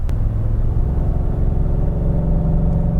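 A gasoline truck engine drones loudly and steadily while climbing a hill, a deep continuous rumble with a strained, labouring tone heard from inside the vehicle.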